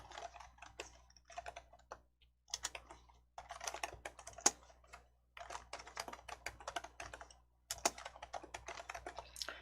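Keys clatter on a computer keyboard in quick bursts of typing, close and fairly quiet, with short pauses between runs of keystrokes and no talking.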